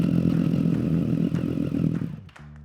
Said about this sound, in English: give the ignition a try to make sure everything's working the way it should be